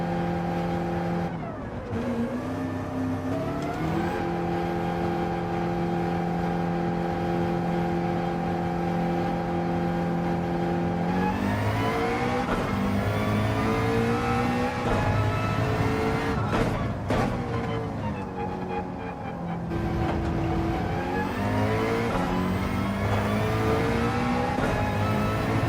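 A Porsche race car in Gran Turismo 7 qualifying holds a loud, steady engine drone with sustained harmonics, shifting pitch as it revs up and drops through gear changes, running continuously with no talk.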